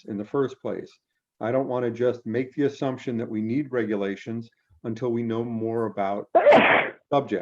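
A single loud sneeze bursts out near the end, following a stretch of plain speech in a meeting room at a planning and zoning commission session.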